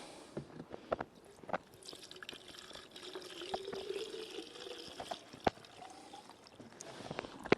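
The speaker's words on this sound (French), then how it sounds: "Donc on va remplir en essence. Donc j'ai réussi à ouvrir. On va essayer de ne pas en mettre trop à côté." Fuel mix at 2% trickles and splashes as it is poured into the tank of a new chainsaw, a thin liquid stream with scattered drips and small clicks, close by and moderately quiet.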